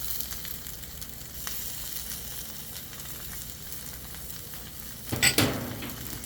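Pork chops reheating on a Blackstone griddle give off a steady, moderate sizzle. A brief sharper burst of crackling flares up near the end.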